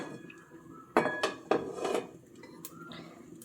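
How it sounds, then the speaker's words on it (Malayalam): A lid is set onto a metal cooking pot on the stove, giving a couple of sharp metallic clanks followed by a lighter rattle as it settles, close and clear. "നമുക്കിതിനെ മൂടി വെക്കാം."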